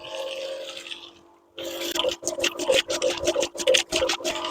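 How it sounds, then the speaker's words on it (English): Water splashes and sloshes into a cement mix in uneven bursts after a brief quiet pause, close and fairly loud, with a hum beforehand. "let me start putting the water in again"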